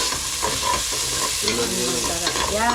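Sliced onions sauté and sizzle in a hot pan with a steady, close frying hiss, stirring scrapes and clinks through it, and a brief voice speaking near the end.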